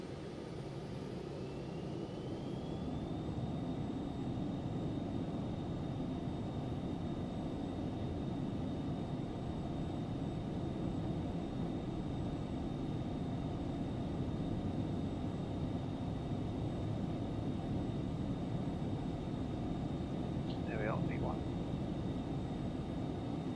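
Steady broadband roar of an Aerobask Phenom 300 business jet's engines at takeoff power in the X-Plane 11 flight simulator, with a sustained whine rising in pitch early on and a constant, moderately loud level throughout.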